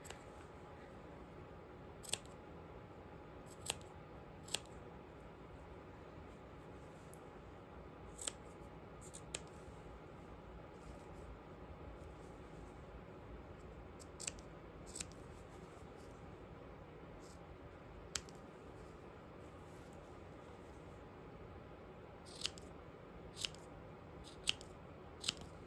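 Sharp scissor snips trim the sewn fabric of a handmade dinosaur plush, a dozen or so brief clicks scattered irregularly over a steady low room hum, close and fairly quiet.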